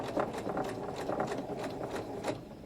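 Sewing machine stitching across the top of a durable reusable tote shopping bag, a close mechanical rattle with quick rhythmic needle strokes repeating steadily throughout.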